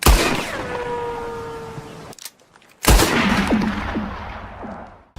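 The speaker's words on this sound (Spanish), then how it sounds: "el sonido de cada disparo cambia dependiendo de a qué disparemos" Gunfire in Red Dead Redemption 2, two loud close shots each followed by a long ringing, echoing tail, the second with scattered ricochet-like pings as it fades.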